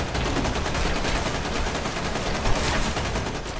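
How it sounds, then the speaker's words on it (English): Enemy suppressing gunfire pours in during the game Destiny, a dense, continuous roar of rapid shots with no breaks, loud and close throughout. "That is some seriously good suppressing fire"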